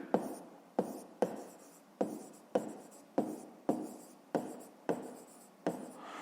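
A pen writes out a math working by hand in about nine brisk, evenly spaced scratchy strokes, close and quiet, with no talk.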